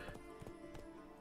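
Horse hooves clip-clopping in The Witcher 3 video game, a quick steady run of soft thuds at a trotting rhythm under a busy ambient game backdrop, fairly quiet.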